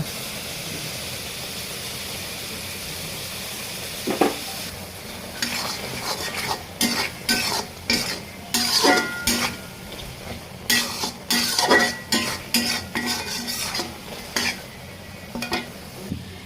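Beef liver in gravy is stirred in a pan, a quiet sizzle at first, then a run of irregular spoon scrapes and knocks against the metal, close and distinct with no talking.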